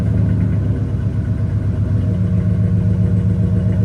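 A 2000 Ford Excursion with a 5.4L V8 and Flowmaster Super 10 exhaust idles, a loud, close, steady low rumble with an even throb and no voices.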